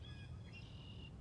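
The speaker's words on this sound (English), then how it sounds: "very raucous, meaning very loud and energized bluebirds" Loud, raucous bluebirds call near a backyard bird feeder, with bright chirps and whistles overlapping in quick succession from close by, over a low outdoor rumble.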